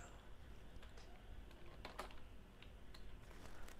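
Keystrokes on a computer keyboard while text is entered in a word processor, soft irregular clicks spread through the span with a few sharper taps, set against a steady low room hum.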